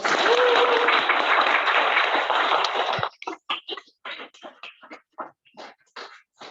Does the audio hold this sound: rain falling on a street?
no